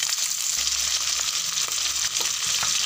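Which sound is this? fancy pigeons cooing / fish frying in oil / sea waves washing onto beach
fish frying in oil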